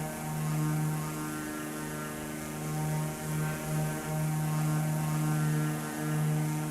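Mooney Ovation single-engine propeller plane climbing after takeoff in MSFS 2024, a steady droning engine hum with a strong low tone that swells and dips slightly, heard from the cockpit, with no talk.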